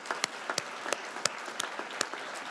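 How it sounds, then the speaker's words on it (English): A few people at a graduation completion ceremony for an early-college academy give a sparse round of applause. The distinct individual claps land at a loose, regular pace in a quiet room. "Let's give one more round of applause."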